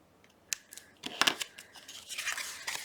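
Scissors snip through Tim Holtz end paper in a few sharp, close cuts, with papery rustling between them and no voices.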